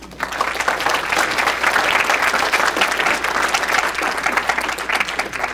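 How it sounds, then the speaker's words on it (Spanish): Listeners at a university science and computing event applaud an invited speaker, steady close clapping from a modest crowd that starts quickly and carries on evenly for about five seconds. "Un aplauso por favor para él."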